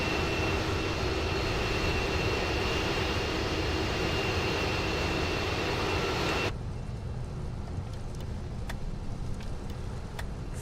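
Boeing 747-8F jet engines at takeoff power in the MSFS2020 flight simulator, a loud steady broadband roar that drops sharply partway through to a quieter rumble with a few faint clicks.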